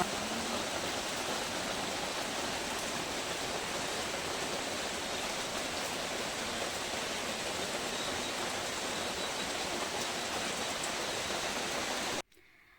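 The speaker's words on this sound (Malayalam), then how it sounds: "അപ്പോൾ ഇതാ മഴ പെയ്യുന്നതാണ് കേട്ടോ." Heavy, steady rain pours down without a break, a dense hiss that fills the whole scene and then cuts off abruptly at the end.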